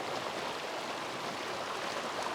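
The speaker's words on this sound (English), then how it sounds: "So the creek itself is a really nice little babbling brook" Small creek babbling beside an old mill in West Virginia, a steady, even wash of running water with no pauses, moderately close and alone with no voices.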